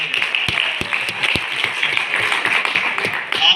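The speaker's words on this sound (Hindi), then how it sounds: "इनके लिए एक जरा जोरदार तालियां।" An audience claps loudly and steadily at a long speech event, with a few sharp, distinct claps standing out near the start over a dense, continuous wash of applause.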